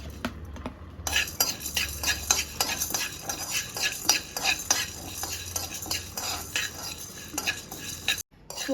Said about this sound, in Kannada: ಮೊದಲನೇದಾಗಿ ಜೀರಿಗೆ, ಮೆಣಸು ಮತ್ತು ಸೋಂಪು ಈ ಮೂರನ್ನ ಡೀಪ್ ಫ್ರೈ ಮಾಡ್ಕೊತಿದ್ದೀನಿ.